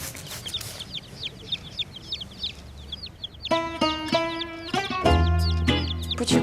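Chickens cluck and chatter close by, a busy run of short calls with a louder burst of squawking near the end.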